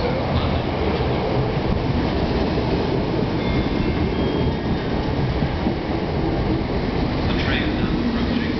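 A South Western Railway train, the 09:36 service to London Waterloo, approaches Platform 1 at a station with a loud, steady rumble and rattle that fills the whole stretch, with a faint squeal near the end.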